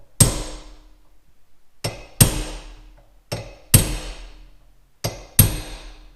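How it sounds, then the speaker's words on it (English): Six sharp metallic hammer strikes on a center punch into steel tube, loosely paired, each ringing briefly before fading, close by with quiet gaps between. "I'm gonna center punch"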